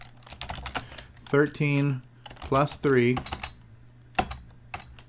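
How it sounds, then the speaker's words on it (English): Keys clatter on a Color Computer keyboard while a BASIC line is typed in, steady close clicking throughout under a person's talk. "Type this line in and see."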